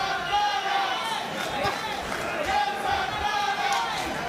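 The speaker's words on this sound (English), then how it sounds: "You hear the crowd chanting Yan Santana with a triple clap" A boxing crowd chants together with rhythmic clapping during the final round of a fight, a dense roar of voices and claps filling an arena, with a commentator talking over it.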